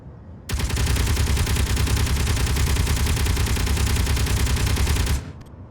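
An interior turret in the space game Space Engineers fires a dense, continuous burst of rapid gunfire that starts abruptly, stays loud and even for nearly five seconds, then cuts off.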